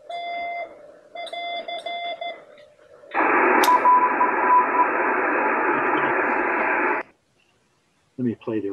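Amateur radio moon-bounce (EME) signal and its echo, received from a California station, comes through as a loud, steady band of radio hiss and tone lasting about four seconds after faint beeping tones, then cuts off into silence.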